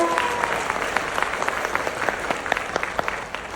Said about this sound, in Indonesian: Beri tepuk tangan yang meriah buat dia.